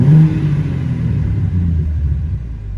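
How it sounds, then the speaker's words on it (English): A 2023 BMW M3 engine revs with its exhaust valves open, a loud, close, continuous deep rumble that swells at the start and holds steady throughout. "That's not really going to change the exhaust sound, but I do like that noise."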